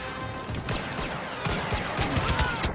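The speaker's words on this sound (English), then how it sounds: "I hear shooting." Blaster gunfire in Star Wars: Battlefront, several sharp bursts and cracks in quick, uneven succession over a busy battle background, mid-distance and moderately loud.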